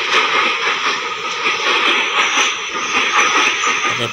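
A train rolls past close alongside a moving train, a steady broad rumble and rush of wheels holding loud and even throughout.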